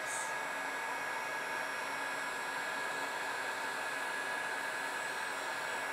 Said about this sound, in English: I'm just waiting for my heat gun to heat up and we are ready